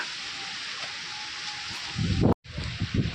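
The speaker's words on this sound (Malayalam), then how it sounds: "മഴ മഴ മഴ" Rain falling on a hillside in gusty weather: a steady broad hiss throughout that swells into louder, rougher rustling near the end, with a brief sharp break before it resumes.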